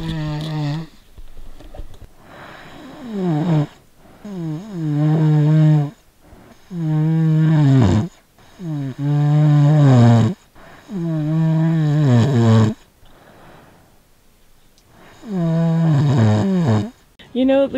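Recorded human snoring played back: slow, loud, rhythmic rasping breaths repeating about every two seconds, each a long buzzing inhale separated by short quiet pauses.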